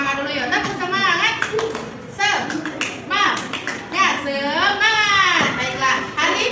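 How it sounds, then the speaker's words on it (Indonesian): A class of Indonesian fifth-grade children performs a rhythmic chant-and-clap routine, with patterned bursts of hand claps interleaved with their sung, shouted words, close and lively. "kita tepuk semangat dulu ya. Tepuk semangat."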